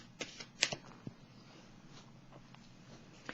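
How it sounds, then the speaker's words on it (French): A card drawn from a tarot deck produces faint, close shuffling and sliding with a few sharp flicks and taps over quiet room tone. "Là, je vais piger une carte dessus."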